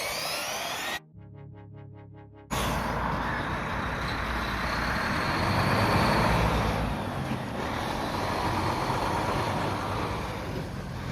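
A car passing on the road beside an RC speed run test of a Rlaarlo DSK, heard as a steady rising and fading roadside vehicle rumble with wind noise, moderately loud, after a brief electronic beeping interruption.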